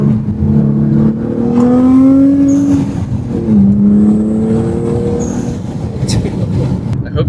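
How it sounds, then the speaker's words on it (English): A new performance car revving hard, its loud exhaust note rising and falling in pitch with bursts of blow-off valve hiss, close and continuous with faint voices beneath. "The exhaust notes sound incredible. And the blow-off valves."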